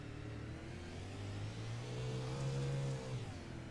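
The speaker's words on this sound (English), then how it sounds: "A little more engine noise there for us." A race car engine on track, revving and accelerating steadily, its tone climbing, then easing off as the car battles around the circuit, loud and close with no talk.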